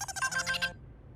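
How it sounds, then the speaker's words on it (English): A bright electronic phone ringtone plays in the video game NEO: The World Ends with You, a quick melodic chirping pattern that cuts off abruptly after under a second. "I don't ever remember hearing this ringtone."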